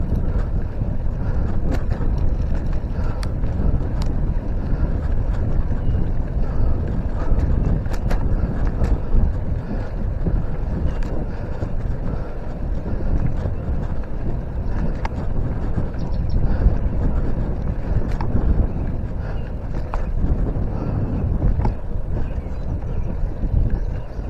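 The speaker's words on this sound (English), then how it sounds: "That wind's really pushing me right now." Strong wind roars steadily over the microphone of a cyclist riding into a headwind on a prairie trail, a dense continuous low rumble with gusty buffeting for the whole stretch and no voices.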